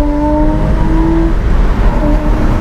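A 2007 car with a naturally aspirated six-cylinder boxer engine runs steadily, a smooth continuous drone with a few sustained tonal notes, loud and close with no talking.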